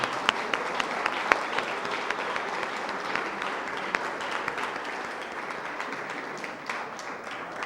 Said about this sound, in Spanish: de verdad que se merece otro aplauso su participación